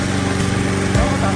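A remote-control tracked crawler lawn mower's engine runs at a steady idle, a continuous mid-pitched mechanical drone that stays fairly loud throughout.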